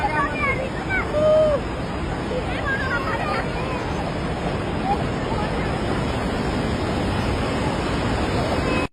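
Trishuli river floodwaters rushing after a dam burst in Nepal, a loud steady roar of water with excited voices calling out over it near the start.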